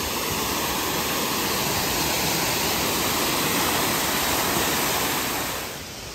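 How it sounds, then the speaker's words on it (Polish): A small jungle waterfall in Vietnam roars steadily nearby, a loud, unbroken rush of falling water that eases slightly at the very end. "Wodospad nie jest jakiś wielki,"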